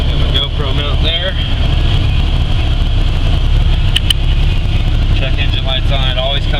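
A Mk3 car's engine, just fired up after sitting a couple of days, runs loud and steady in a close rumbling idle with a voice speaking over it.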